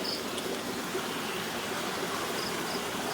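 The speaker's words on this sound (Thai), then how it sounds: "ตรงทางน้ำไหลพี่น้อง ก็น้ำจะ ไหล ไปตามเลยฮะ" Soft, steady rushing of water flowing through a rice field channel after a rainstorm, with faint insect chirps over it and no voices.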